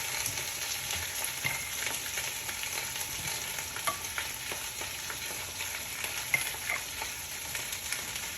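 Sliced onions sizzle and crackle steadily in a pot for pot roast, a continuous close frying hiss with faint stirring clicks and no talking.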